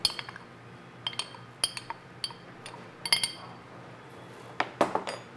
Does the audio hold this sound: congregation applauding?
no